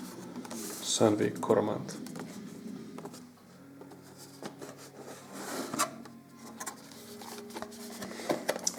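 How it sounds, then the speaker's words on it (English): A package holding a Sandvik Coromant Coromill 745 is opened at close range, with crinkling, rustling and tapping of packaging. A person talks over it the whole time. "Let's open this package."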